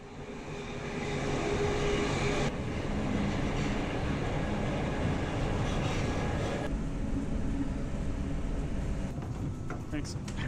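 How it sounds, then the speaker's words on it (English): A commuter train with bike racks in its front carriage, heading up to Woodford, rolls on its rails with a loud, continuous rumble and rattle throughout, and faint voices mixed in. "waiting for the train ride back up to Woodford"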